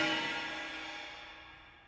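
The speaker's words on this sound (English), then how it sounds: "I really felt like an audio cue would be nice to let you know" A tense, horror-tinged warning cue for a jammed machine pistol in Deathloop, built from metallic cymbal scrapes: one sustained bright, washy swell that starts loud and slowly fades over two seconds, with no voices.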